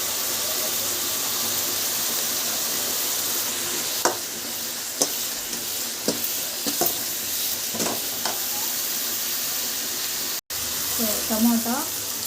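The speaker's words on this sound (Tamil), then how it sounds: "கருவேப்பிலை பூண்டு வெங்காயம் மூணு வந்து ஆட் பண்ணி நல்லா வந்து வதக்கிக்கலாம்." Curry leaves, garlic and onions sauté in a pan, giving a steady close sizzle broken by sharp scraping stirs, with a brief dropout near the end before the frying resumes.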